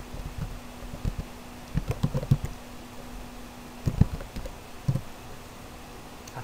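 Someone types a web address into a browser on a computer keyboard, with bursts of close, light key clicks separated by short pauses, over faint steady room hiss.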